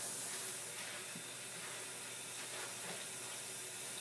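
A kitchen faucet runs steadily for rinsing, a faint, continuous water hiss with no breaks and no voices.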